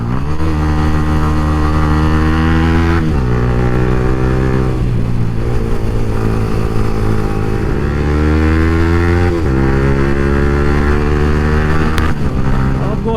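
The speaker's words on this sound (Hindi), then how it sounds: "बाप रे बाप क्या लाउड साउंड है। और अभी मैं चला रहा हूँ R15V4।" A Yamaha R15 V4 motorcycle roars loudly while being ridden, its engine note rising and falling through repeated revving and gear changes, with steady wind rush over the microphone throughout.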